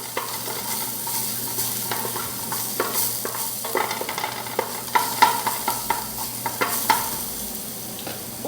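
Crushed garlic sizzles and browns in a hot pan, a steady frying hiss that runs throughout, with repeated close scrapes and clicks of a utensil stirring it.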